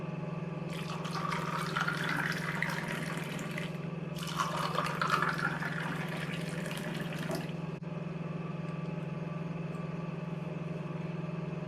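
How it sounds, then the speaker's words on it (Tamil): Ginger mint lemon juice poured over ice cubes into two tumblers: two close, bubbling streams of liquid, each lasting a few seconds, followed by a quiet, humming room. "2 டம்ளர்லேயும் ஐஸ் க்யூப் சேர்த்துட்டு ஜூஸை 2 டம்ளர்லேயும் ஊற்றிடலாம்"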